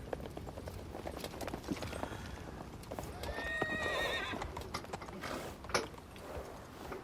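Horse hooves clip-clop in a quick, uneven rhythm in the video game Shadow of the Colossus while a horse whinnies partway through, with mechanical clanks mixed in.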